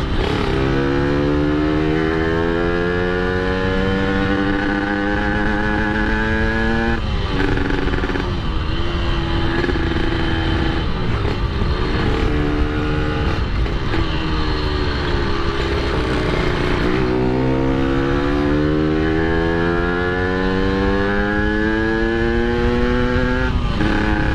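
Yamaha RX King two-stroke motorcycle engine revving hard for a long stretch, loud and close, its pitch climbing through repeated rising sweeps with brief drops between gears and no voices.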